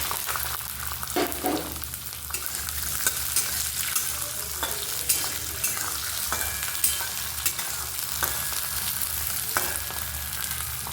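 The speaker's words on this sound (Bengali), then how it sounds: "মটরটা হয়ে গেছে ভাজা, তুলে নিয়ে এবার" Peas fry in hot oil with whole cumin seeds, a steady close sizzle broken by the scrape and tap of a spoon stirring the pan.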